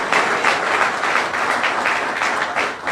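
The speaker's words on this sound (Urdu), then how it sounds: "یسوع کے لیے زوردار تالی بجا رہے ہیں" Church congregation applauding loudly, a dense, steady wash of many hands clapping together throughout, with no talk over it.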